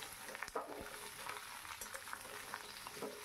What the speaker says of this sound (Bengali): আমি ভালো করে সবজিটাকে ওলট পালট করে নেড়ে নিচ্ছি ওপর নিচ থেকে।